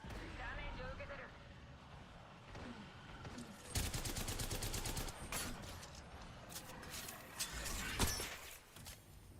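Charge rifle shots in Apex Legends cracking amid a busy firefight, with loud bursts and rapid impacts clustered in the middle and near the end, while a person talks over the action.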